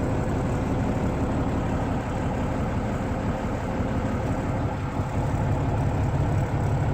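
A 2008 Freightliner FLD truck with an older Caterpillar diesel idles in a steady, low, rumbling drone that holds constant throughout with no voices.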